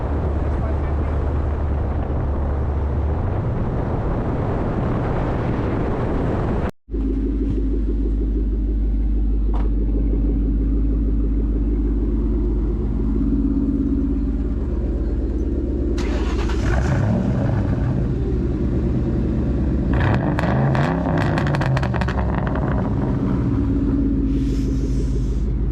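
A built 2001 Ford Mustang GT engine rumbles loudly and continuously from inside the car while cruising and pulling, with revving swells in the second half and people talking over it.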